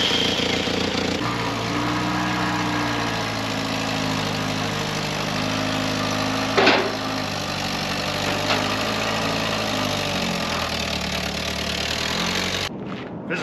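A Willys Jeep FC-150 four-wheel-drive pickup drives off-road with a trailer behind it, its engine droning steadily and fairly close at a low rumble, with one brief clunk partway through before the sound cuts off.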